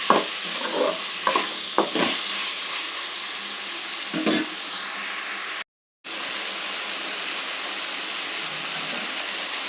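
Tomatoes fry and sizzle in a pan with steady hissing as a spoon stirs them, scraping and clattering in a few quick bursts early on before a brief break, then the sizzle carries on.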